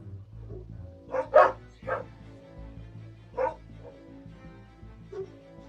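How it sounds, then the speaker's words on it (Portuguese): A dog lying by a sunny window barks in a few sharp bursts with short yips and whimpers between them, fairly close, with pauses of quiet. "Daí ele começa a latir aqui."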